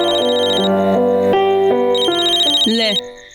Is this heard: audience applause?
no